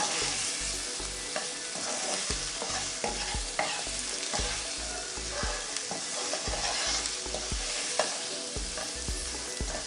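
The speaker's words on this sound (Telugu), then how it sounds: "ఇప్పుడు బాగా కలబెట్టుకోవాలి" Masala gravy for beans egg curry is stirred in a pan, steady sizzling with repeated scraping and clattering strokes of a spoon, close and continuous without speech.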